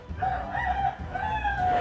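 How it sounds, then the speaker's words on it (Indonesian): Chickens in a coop, with a rooster crowing in drawn-out calls and hens clucking at moderate distance, fairly quiet against a low ambient rumble, no clear talk. "Itu kandang ayam."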